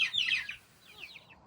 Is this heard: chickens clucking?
yes